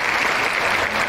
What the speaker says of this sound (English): keep the claps going, guys